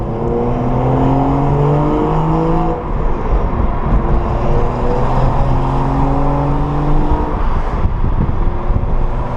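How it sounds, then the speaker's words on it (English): A manual BMW N55 engine with a catless downpipe exhaust drives hard from inside the car, its loud, raspy drone rising and falling through gear changes, steady and continuous with no talking. "as y'all can tell, it sounds a lot better than it did with the catted stock downpipe"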